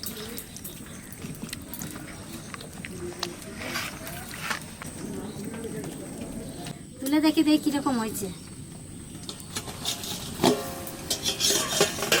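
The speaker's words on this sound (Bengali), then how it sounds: "আর দুই চামচ হলুদ দেবো এইবার সর্ষের তেল দিয়ে ভালো করে মাখায় নেবো" Taro greens being mixed and rubbed by hand with turmeric and mustard oil for a home-style Assamese dish, giving a soft, continuous squelching rasp with brief louder stretches, close up, amid light kitchen background noise and a voice speaking.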